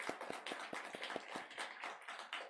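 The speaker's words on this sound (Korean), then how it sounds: "우리 뜨겁게 격려의 박수 보내드리겠습니다" Congregation clapping in encouragement during a church worship service, a dense run of many hands with sharp individual claps standing out, steady and close for the whole stretch.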